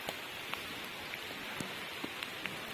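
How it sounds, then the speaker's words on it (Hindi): Light rain falls at a hilltop temple surrounded by hills, a soft steady patter with scattered faint drops tapping nearby surfaces. "और हल्की हल्की बरसात हो रही है"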